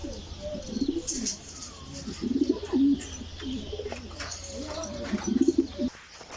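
Pigeons coo in repeated soft, throaty bursts close by, with a few faint chirps and steady background hum between the calls.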